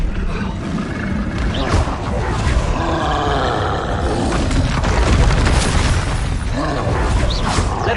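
Confringo blast spell from Hogwarts Legacy, a dense roaring boom of magical explosions and rumble sustained throughout, loud and close amid busy combat effects.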